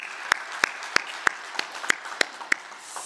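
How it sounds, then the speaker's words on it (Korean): Hands clap during a Sunday worship service at a Korean church: eight sharp, evenly spaced claps at a quick, regular beat, close and fairly quiet against a soft hush. "우리 박수로 격려하겠습니다"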